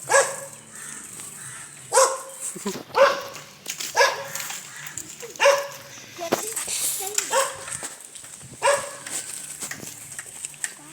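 A dog barks several times in short bursts at intervals, with street noise and background activity around it.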